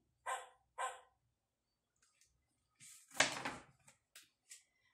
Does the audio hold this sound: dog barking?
yes